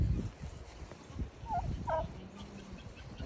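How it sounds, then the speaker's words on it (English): A farm turkey gobbles twice in quick succession amid faint rustling and low background noise, fairly distant and soft. "So this is one of our turkeys."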